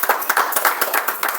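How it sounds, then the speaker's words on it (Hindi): Congregation at a Sunday church prayer meeting clapping hands together, a loud, dense burst of rapid overlapping claps with no talk over it. "तो जोर से ताली बजा के प्रभु का धन्यवाद करो"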